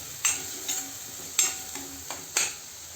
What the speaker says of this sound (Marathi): आता हे सगळं मसाल्यामध्ये परतून घेऊया